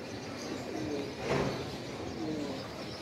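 Pigeons cooing softly, a few low burbling calls rising and falling over a quiet background.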